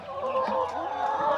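Chickens clucking on a cage-free backyard farm in Cebu, a short burst of close, steady hen calls with some overlapping fowl voices.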